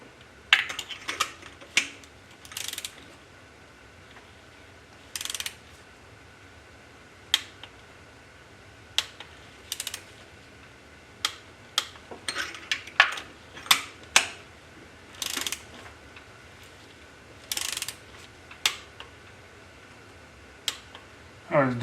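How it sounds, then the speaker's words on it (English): A ratchet with a 14 mm deep-well socket tightening the head bolts on a Toyota Prius engine, heard as sparse sharp clicks and short ratcheting bursts spread irregularly over a quiet background. "now we've got our 14 millimeter deep well and get these things torqued down"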